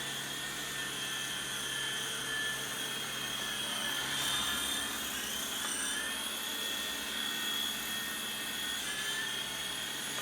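A Syma S39 Raptor RC helicopter flies indoors with a steady, high-pitched rotor and motor whine that holds constant and close throughout, with no talking.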